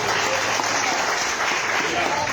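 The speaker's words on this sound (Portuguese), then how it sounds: "Aplauda o Senhor em nome de Jesus." Church congregation applauding during a Portuguese-language prophetic evening service, a steady dense wash of clapping with a voice faintly present underneath.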